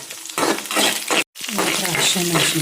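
Chana dal and spices fry in a pan for cabbage palya, a steady dense sizzle with stirring scrapes, broken by a brief cut near the middle, while someone speaks over it.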